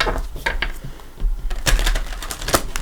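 Crisp papery riffles and taps of tarot cards being shuffled, several quick bursts close up, with no talking.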